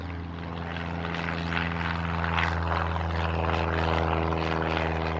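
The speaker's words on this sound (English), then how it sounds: "Smaller planes, 1 or 2 seaters" A small propeller plane drones overhead with a steady buzzing engine tone, fairly close and holding level throughout.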